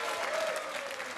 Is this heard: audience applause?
yes